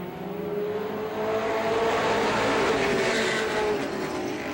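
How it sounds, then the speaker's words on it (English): Stock cars racing on the back straightaway at Star Speedway in 1993, a sustained loud engine roar that swells and fades slightly as the pack passes, heard from trackside without talk. "Here's Rollins now on the outside of Casey as they work the second turn, and down the back straightaway they go"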